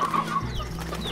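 Hens in the Slime Rancher video game cluck in quick, short bursts, a clear cluster of bird calls up close without any talk.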